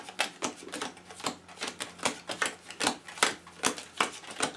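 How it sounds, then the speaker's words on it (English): A deck of Lord of the Rings card game cards is shuffled at close range in a quick, even series of about a dozen crisp riffling bursts, with nothing else heard. "And I'll give this a quick little shuffle."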